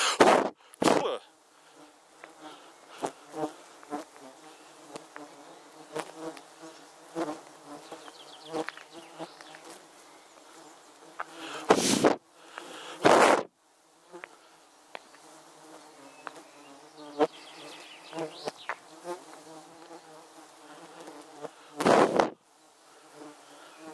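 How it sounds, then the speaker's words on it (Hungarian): Flies buzzing around outdoors on a mountain hike in Transylvania: a steady insect drone that swells as they pass close, with a few sharp, loud bursts of handling noise. "Tehát, hogy ezek a kurva legyek engem, hogy idegesítenek."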